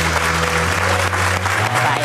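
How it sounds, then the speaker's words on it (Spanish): A short burst of loud, dense clapping from an audience, steady throughout, with a low hum underneath. "Vamos a recibir con un fuerte aplauso a Eva Burgos"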